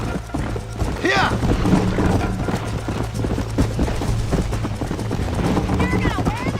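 Hooves pound in a fast, steady rhythm as a horse gallops in the video game Red Dead Redemption, loud and close, with mechanical clatter and a brief whinny-like cry over the running beat.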